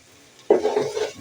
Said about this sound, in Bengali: এখন চাল আর ডাল একসঙ্গে করে তেলের মধ্যে আবার ভেজে নেব